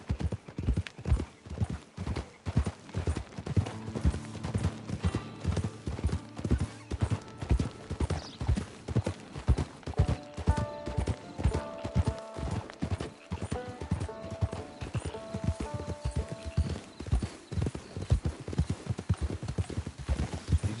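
Steady clip-clop of horse hooves on a trail in Red Dead Redemption 2, with occasional neighs and whinnies over faint in-game music, continuous and fairly close throughout.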